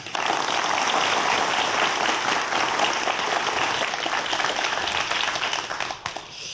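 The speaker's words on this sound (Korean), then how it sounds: "여러분 큰 박수로 강연 청해 듣겠습니다." An audience greets a lecture on the history of life with loud, sustained applause, a thick, even wash of clapping that continues for several seconds before thinning out at the end.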